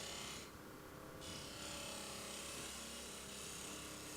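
A skew chisel shears across a spinning wooden rolling pin on a lathe, giving a steady, continuous rasping scrape with a brief change in tone early on, close and loud, with no talking.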